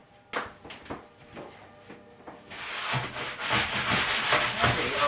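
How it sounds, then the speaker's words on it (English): Rough scratchy hand-sanding strokes on dried drywall mud, starting sparse and growing into steady continuous rubbing at close range, no voices. "So let's get this light sanding done"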